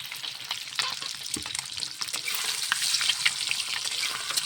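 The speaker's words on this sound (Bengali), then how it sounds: "ডিমগুলো ভেজে নিতে হবে ভালো করে, লাল লাল করে। এই যে ভাজানো হচ্ছে লাল লাল করে।" Eggs fry in a pan until browned, giving a close, steady crackling sizzle with occasional sharper pops and light stirring scrapes throughout, with no voices.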